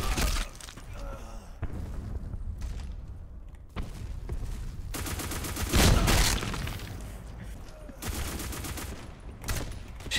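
Gunfire in the video game Black Squad, bursts of rapid shots and sharp cracks coming in clusters, loud and close, with brief quieter gaps between volleys.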